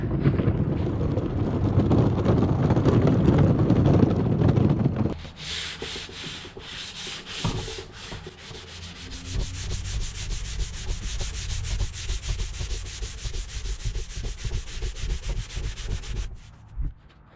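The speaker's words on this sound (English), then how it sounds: "So we're gonna go ahead and sand it." A sander works over the stained wood of an RV dinette, a low rumbling rub up close for the first seconds, then a steadier, brighter grinding hiss that runs on before stopping near the end.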